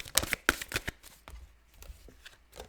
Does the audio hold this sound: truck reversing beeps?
no